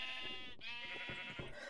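A sheep in the video game Minecraft bleats in a single wavering, quavering call, fairly clear and close with no talk over it.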